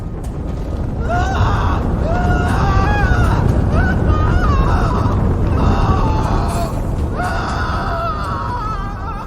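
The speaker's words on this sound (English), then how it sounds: "Charlie's scream was finally released." A loud, sustained scream with wavering, strained pitch rising over a dense roar of noise, breaking off and returning in several long bursts.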